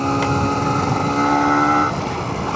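Yamaha TZR motorcycle ridden along a road, a steady engine drone with a held tone that shifts slightly in pitch, close and continuous without talk.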